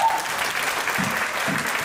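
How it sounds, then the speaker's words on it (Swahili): A crowd at an International Domestic Workers Day event applauds the Labour Commissioner with dense, sustained clapping throughout, loud and steady. "Let's keep clapping for Labour Commissioner."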